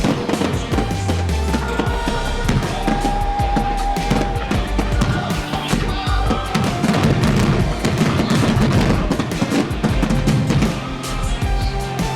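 Rapid, continuous booms and crackling bursts of Fourth of July fireworks pile on top of each other, a dense barrage of explosions with no pause and no voices.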